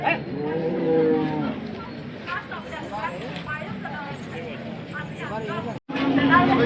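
Cattle moo loudly nearby several times amid crowd chatter and people talking at the Sangola cow market in India, with background voices of a busy market.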